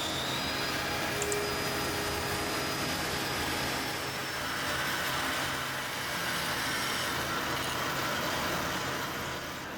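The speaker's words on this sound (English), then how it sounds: "More bandsawing." A bandsaw rough-cuts a curved cabinet part, a steady loud whirring roar that holds constant for the whole stretch, close by with no talk.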